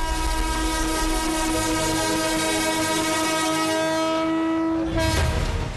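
A passenger train on the new Beed to Ahilyanagar line at its inauguration sounds a loud, sustained horn that holds for several seconds over rumbling wheels, then cuts off near the end.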